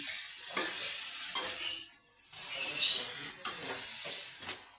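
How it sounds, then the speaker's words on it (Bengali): Bottle gourd greens stirred and sautéed with spices in a pan, a steady sizzle broken by scraping stirs, with a short lull midway before the frying noise returns, no talking. "এবার আমি এইটা ভালো করে কষিয়ে নেব পাঁচ মিনিট"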